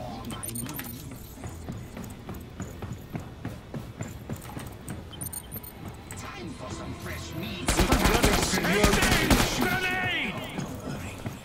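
Rifle gunfire in a video game boss battle, heavy-recoil weapon firing in quick repeated bursts, growing into a loud dense barrage near the end, with talk over the shots.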